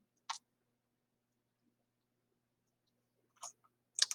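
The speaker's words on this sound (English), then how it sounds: "And I'll just be clicking back and forth." A computer mouse clicks three times against a quiet room: one isolated click, a long pause, then two sets of clicks close together, each sharp, brief and close-up.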